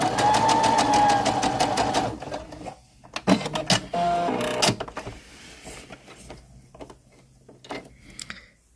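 A sewing machine runs a stitch in a steady rapid whir, then stops and gives several shorter bursts of stitching with clicks and pauses between them.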